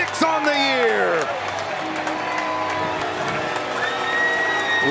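A stadium crowd roars and cheers after a late goal at a Sacramento Republic FC versus El Paso Locomotive FC soccer match, with loud sustained whooping, whistling and applause that carries on throughout alongside an excited voice.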